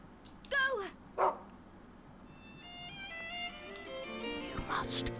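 A dog in the horror game Rule of Rose gives two short, high, yipping barks close by, then a musical chime-like tone rises and fades with faint sounds underneath.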